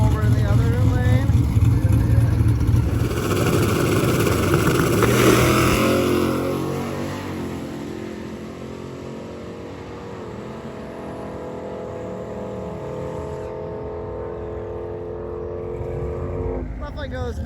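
Drag racing cars, including a Trans Am, making passes at a drag strip during Drag Week 2024, with loud engine roar peaking early and then a steady rumble from farther off, under a commentator's voice.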